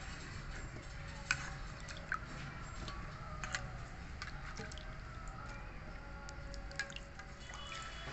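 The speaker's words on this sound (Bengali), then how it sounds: "ভালো করে কচলি করে ধুয়ে জল ভালো করে ঝরিয়ে দিচ্ছি।" Water drains and drips from washed elephant apple fruit sitting in a strainer, a steady soft trickle with scattered faint drips and small wet squishes, close and quiet.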